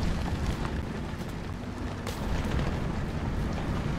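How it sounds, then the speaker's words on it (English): A Churchill Crocodile flamethrower tank firing in a war video game: a continuous low roaring rush with rumbling bursts, heard at some distance and filling the whole stretch without pause. "I just heard a flamethrower."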